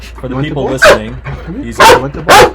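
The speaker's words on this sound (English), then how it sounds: "and now he's going to be barking for the rest of the episode" A Dutch Shepherd dog barks three loud, sharp times, spaced apart, while a person talks close by between the barks.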